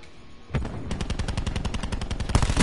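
Rapid automatic gunfire in Black Ops 4, a loud close burst of evenly spaced shots firing continuously for about two seconds.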